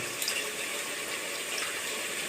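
Water poured steadily from a pot into a village-style fish curry, a continuous soft gushing splash with no talking.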